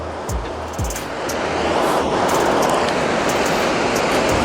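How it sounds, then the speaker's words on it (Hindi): Steady, loud rush of a river flowing through a snowy mountain valley near Mana village in Uttarakhand, a dense broadband roar that swells and holds, with a couple of low thumps near the start. "और बीच में बहती हुई कितनी सुंदर नदी।"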